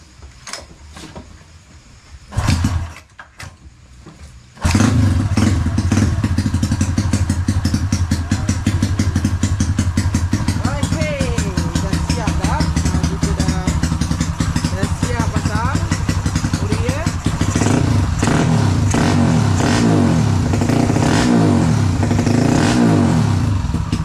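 A Honda Wave 125 motorcycle fitted with an LC 135 cylinder head starts up after a brief cranking attempt, then idles loudly and is revved repeatedly with rising and falling engine pitch, close to the microphone.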